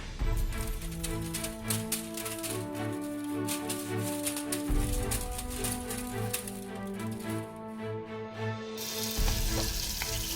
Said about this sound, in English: It is time to sear our steak. Melt some butter onto the oil, sprinkle some salt, and let's begin to sear.